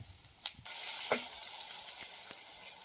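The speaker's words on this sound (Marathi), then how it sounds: "आता यात घालते मी कांदा तेल पण आपलं चांगलं तापलं बघा" Chopped onion hits well-heated oil in a home kitchen pan, breaking into a loud, steady sizzle that hisses on with a few faint clicks and stirring scrapes, no voices.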